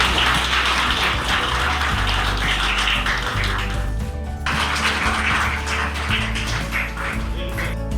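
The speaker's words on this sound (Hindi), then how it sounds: "जोरदार तालियों से स्वागत।" Hearty applause fills a hall as an honoured guest is welcomed with a bouquet at a ceremony in Giridih. The thick, steady clapping breaks off for a moment partway through, then surges back under a low background hum.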